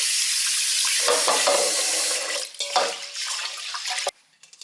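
Rice being rinsed under a running tap in a kitchen sink, a steady splashing hiss of water with swishing and stirring as the grains are washed, ending abruptly when the flow stops.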